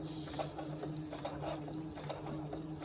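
A sewing machine stitches steadily at close range, making a quiet, even mechanical whir with rhythmic ticking while fabric gathers into a crimp behind the presser foot.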